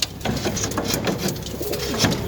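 Pigeons cooing near a nest where a mother sits with her squabs, soft repeated low coos close by, with no talk.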